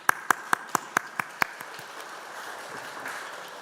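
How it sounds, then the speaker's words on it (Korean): About seven sharp, slowing claps ring out and stop after a second and a half, then soft room noise follows in a church hall where a congregation welcomes a guest speaker. "나오실 때 여러분들 환영과 감사의 박수 하겠습니다"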